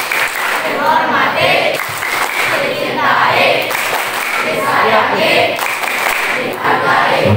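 Students at an Indonesian junior high school perform a rhythmic clapping chant during a cheerful morning routine, with group voices chanting over the claps throughout.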